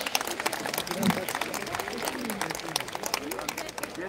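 Sparse, scattered clapping from a modest crowd at a Circassian cultural festival welcomes a contestant onto the stage; the applause is thin and fairly quiet, with voices mixed in.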